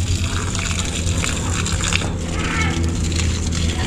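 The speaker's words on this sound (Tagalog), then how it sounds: "yung mga talong diligan natin" Water pours and splashes steadily onto eggplant plants in a backyard garden, a constant gushing wash with no breaks.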